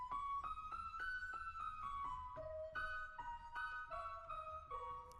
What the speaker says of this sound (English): it's a warm cathedral effect, and now it's sounding like this.